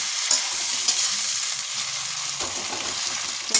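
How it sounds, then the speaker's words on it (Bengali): Tomatoes tip into a pan of fried onion and green chili, setting off a steady, close sizzle with stirring scrapes and a few sharper crackles throughout, with no talking. "পেঁয়াজ লঙ্কাটা ভালো করে ভাজা হয়ে গেছে, এবার এই যে টমেটোগুলো দিয়ে দেবো।"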